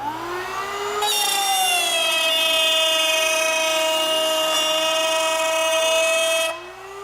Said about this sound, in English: So I'm going to cut the groove.